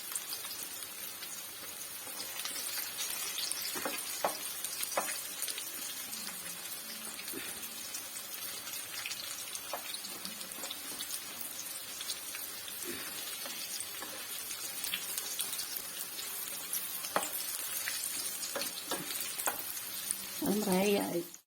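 Ivy gourd (kovakka) frying in a pan, a continuous dense sizzle and crackle that goes on for over twenty seconds, with occasional stirring scrapes and a louder burst near the end, close and unvoiced.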